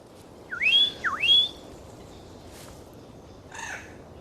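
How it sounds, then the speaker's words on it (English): Seychelles magpie robin calling from about a meter away: two clear rising whistled notes in quick succession, then a brief rougher call after a pause, over quiet outdoor background. "This species of bird is known as the Seychelles magpie robin."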